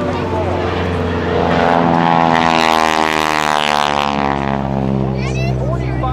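A T-6 Texan (SNJ) propeller airplane performs a barrel roll at an airshow, its radial engine droning loud and close, the pitch sweeping as it rolls, with faint crowd or announcer voice underneath.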